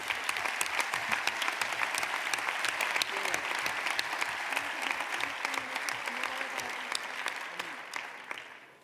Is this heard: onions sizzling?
no